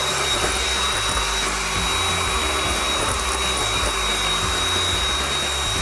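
An electric mixer whips egg whites as sugar is added, giving a constant, loud motor whine with a steady high tone and no pauses.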